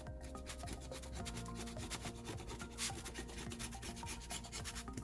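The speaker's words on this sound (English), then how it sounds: "I got this flathead screwdriver to just clean this spot here" A flathead screwdriver scrapes to clean a spot inside an iPad Air 6th gen during a digitizer replacement, giving soft, quiet, repeated rubbing strokes over faint background hum.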